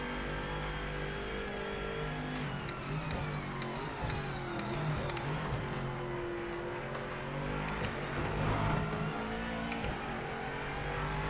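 A GT4 race car engine drones and revs in the driving game Project Motor Racing, holding a steady tone with rising and falling pitch sweeps. No voices are heard.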